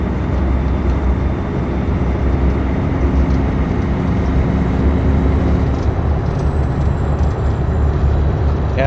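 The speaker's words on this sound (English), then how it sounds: "Yeah, this truck's just loud." Loud, steady engine drone of a modded truck in American Truck Simulator, a dense continuous rumble with a high whine running over it, unbroken and close.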